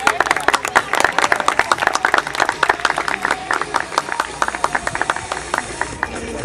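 Audience clapping at a dog agility competition prize-giving in Gran Canaria, a dense, steady round of applause from a crowd that holds for several seconds.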